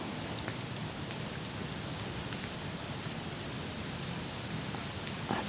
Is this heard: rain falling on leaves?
yes